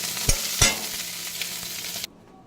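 Steady sizzle of fish frying in oil, with two sharp clinks of a utensil against the pan near the start, then the sound cuts off abruptly.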